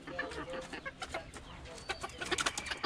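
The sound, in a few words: bantam hen clucking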